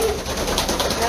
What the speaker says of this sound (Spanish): Palomas, ¿de dónde sacó tantas palomas?